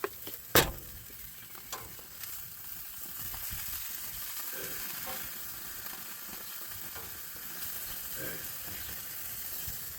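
Food sizzles steadily in a hot pan, a continuous frying hiss with a sharp clatter near the start and faint stirring scrapes throughout.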